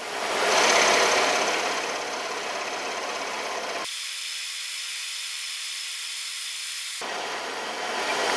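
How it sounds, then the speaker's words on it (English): A small workshop scroll saw trims wooden toy pieces, a steady rasping, buzzing cut that briefly thins out midway before resuming. "we can cut these on the scroll saw now"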